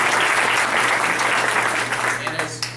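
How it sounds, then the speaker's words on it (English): An audience at the Hamburg school board meeting in October 2010 applauds a staff member for her work. The sustained clapping is full and close and thins out toward the end over a faint steady hum. "a round of applause for Michelle and her work"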